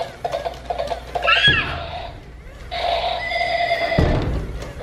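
Toy horse neighing, two loud electronic whinnies with a short gap between, up close over faint background chatter.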